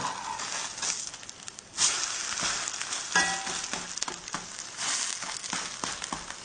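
Food sizzles and crackles steadily in a hot Lodge cast iron pan, a close, continuous frying hiss with occasional louder spits and pops.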